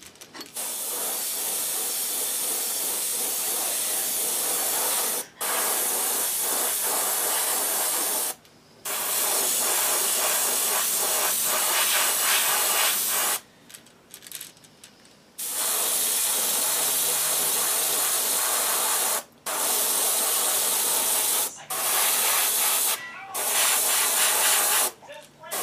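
Close, loud bursts of spray painting hiss out as a base coat goes onto a trout pattern jerkbait lure, several long sprays broken by short pauses, with a voice briefly heard between passes.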